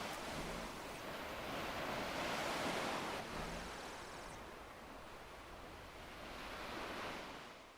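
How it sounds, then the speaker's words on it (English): Soft water ambience from a big lake in the MMORPG Tycoon 2 video game, a gentle washing, surf-like hiss that swells and ebbs slowly at low volume, with no voices. "there's this beautiful water feature"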